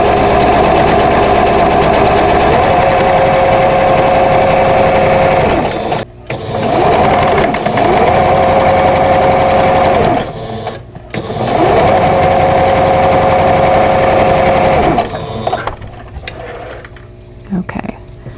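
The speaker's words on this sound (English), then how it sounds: "So I'm going to sew all of these together like that." A sewing machine runs loud and close in three long bursts with short pauses between, its motor whirring and clattering as quilt block pieces for a vintage Stepping Stones block are stitched together.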